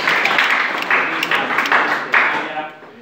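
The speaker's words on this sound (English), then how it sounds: "Let's clap for her." An audience claps for several seconds in a live academic session, a steady patter of many hands at moderate distance that fades toward the end, with voices mixed in.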